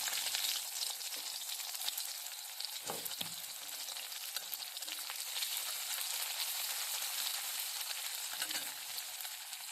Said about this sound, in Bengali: পেঁয়াজটা আবার ভাজা ভাজা হতে থাকবে